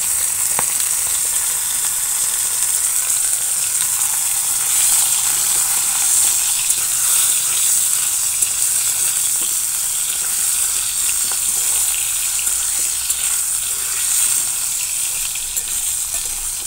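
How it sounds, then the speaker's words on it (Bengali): Peeled pointed gourd (potol) frying in hot oil gives a steady, close hiss and sizzle that runs unbroken, with faint scraping of stirring now and then. "প্রথমে আমি পটলগুলো ভেজে নিচ্ছি।"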